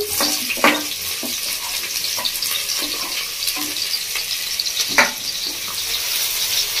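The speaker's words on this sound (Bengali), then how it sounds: "এবার আমি দিয়ে দেবো এর মধ্যে পেঁয়াজের কুচি," Chopped onion frying in a pan with ginger, garlic and green chili, a loud steady sizzle near at hand with a few sharp spoon taps and scrapes scattered through.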